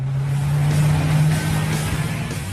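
Koenigsegg Agera supercar's twin-turbo 5-litre V8 idles steadily inside the cabin, a low constant hum with a deep droning tone, moderately loud and unbroken throughout, with no voices.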